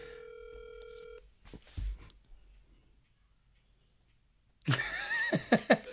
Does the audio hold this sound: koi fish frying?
no